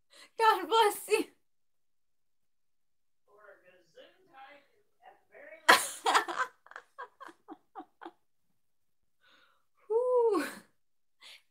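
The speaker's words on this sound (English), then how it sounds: "that was a sneeze, guys." A woman sneezes in sharp, loud bursts, separated by quieter stretches of talk, gasps and giggling.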